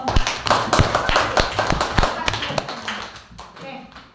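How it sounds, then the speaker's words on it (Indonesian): A small classroom group claps for a group that has finished its presentation, in a lively, uneven burst for a few seconds, with voices mixed in, before the applause tapers off. "Kita berikan tepuk tangan untuk kelompok 4."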